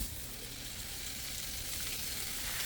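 Salmon sears in a hot pan with a steady, hissing sizzle that holds at an even, fairly quiet level throughout, with no voices.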